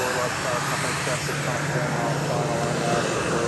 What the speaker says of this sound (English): There goes a flight to Amarillo passing us now.